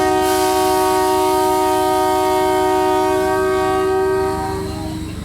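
A DEMU express train sounds a long, loud, sustained horn close by at Jumnal railway station as it departs, the tone steady before easing off near the end over rumbling engine noise.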